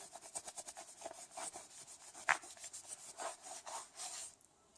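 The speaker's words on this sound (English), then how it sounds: "Just take the old compound off" Old thermal compound is rubbed off a metal heat sink from a Light O Rama controller, a quick steady run of soft rasping strokes, close up and fairly quiet, with one slightly sharper scrape partway through and no voices.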